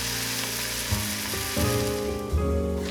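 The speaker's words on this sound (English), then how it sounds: "Put your bread slice in the pan with the butter side down." A bread slice, butter side down, sizzles steadily in a hot pan of butter while making grilled cheese, with faint tonal clinks and scrapes over the continuous frying hiss.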